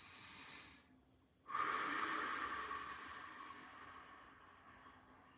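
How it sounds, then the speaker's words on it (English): A single deep breath with a long exhale: after a quiet pause, a sudden airy rush of breath slowly fades away over several seconds, close and fairly soft. "Now, when you do big inhales, you just increase the amount of air you can take in, right, at a time. And then you do super long exhales."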